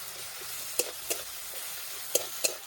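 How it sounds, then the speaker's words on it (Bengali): Ground spice paste sizzling in hot oil in a kadai, a continuous close frying hiss broken by four sharp scrapes and clinks as it is stirred, with no talking. "এবার আমি দিয়ে দেবো বেটে রাখা মশলাটা"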